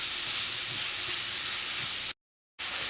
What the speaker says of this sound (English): you're going to let this saute until the vegetables just start to turn tender